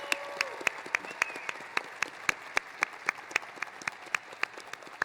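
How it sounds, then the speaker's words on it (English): Sparse, rhythmic applause for inductees at an NSCS induction ceremony, individual claps standing out crisply as a modest audience claps steadily without talk for about five seconds. "Let's have one big, huge round of applause for all of our inductees here with us today."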